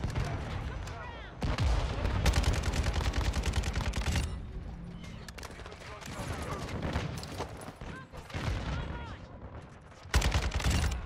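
Gunfire in Call of Duty Modern Warfare 2 pours out in dense automatic bursts, loud and close, with brief lulls between volleys and someone talking now and then over the shooting.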